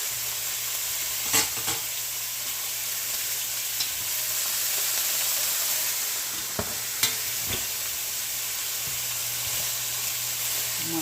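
Pork pieces sizzle and fry in a pan with a steady, close hiss. Occasional soft clinks and stirring bumps break the sizzle, and no one talks.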